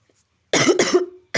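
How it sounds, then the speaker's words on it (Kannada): A single person coughs twice in quick succession, close and loud, then a third cough begins just after a short gap. "ಸಾರಿ ಗಾಯ್ಸ್, ಕೆಮ್ಮು"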